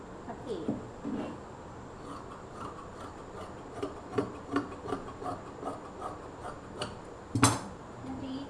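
Scissors snipping through fabric to cut a strip for a frill, a scattered run of soft close-up cuts and rustles of cloth over several seconds, with no speech.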